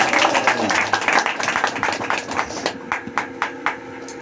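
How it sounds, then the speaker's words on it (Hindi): A church congregation claps to welcome visiting pastors, a dense burst of hand claps thinning toward the end into a few separate, louder claps, close by and with no talk over it. "इस ताली बजाकर स्वागत करेंगे"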